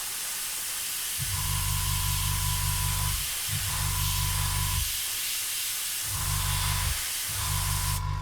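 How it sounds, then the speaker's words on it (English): White paint sprayed from an airbrush onto a model Tiger tank, heard as a steady close hiss in four long bursts with short pauses between them, no talking. "You're just spraying it in, but I'm doing it very carefully."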